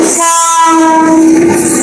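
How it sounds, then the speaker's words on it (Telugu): A loud, sustained train horn blares close by over the rumble of a passing train, one long steady blast. "మా ఎదురుగా వచ్చే ట్రైన్ అలా వెళ్ళింది"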